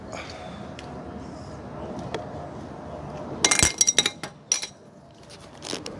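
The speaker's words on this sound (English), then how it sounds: "drop it on the floor and scrape it up" A metal pry tool dropped on the floor during a roof rack crossbar install on a 2020-2024 Toyota Highlander, a quick cluster of sharp clinks and rattles, then quieter scraping.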